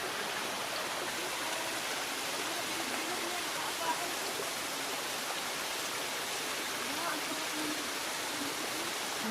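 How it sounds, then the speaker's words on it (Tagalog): Steady broadband rush of a river flowing beside a mountain hiking trail, continuous and fairly soft, with no breaks or distinct splashes. "May ilog na."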